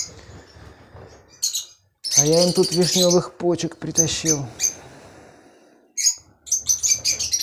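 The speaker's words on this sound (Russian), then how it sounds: "Вот они, неразлучники. Приветствуют меня своим щебетом звонким." Pet lovebirds chirp in bright, shrill bursts, briefly before and then again after someone talks nearby, with a few quick tweets continuing at the end.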